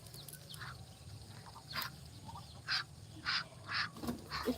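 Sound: duck

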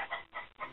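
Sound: chickens and roosters clucking and crowing

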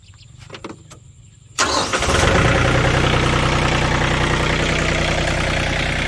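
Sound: Yanmar 39 hp tractor engine starting and idling

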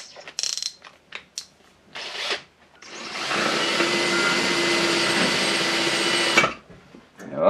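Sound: old cordless drill running on a new lithium battery

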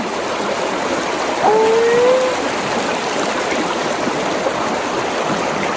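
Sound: waterfall in a forest

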